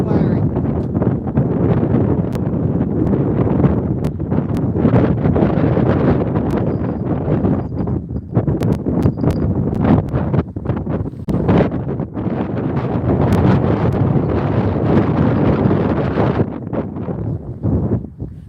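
Heavy wind buffets a microphone outdoors, a loud continuous rumbling roar with gusty surges throughout, and a voice talks intermittently underneath.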